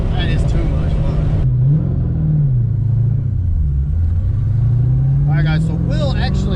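A car fitted with a Silver Sport Transmissions gearbox, a test mule, accelerates hard through the gears. Its engine drones loud and close, pitch rising and dropping at the shifts, while people talk over it.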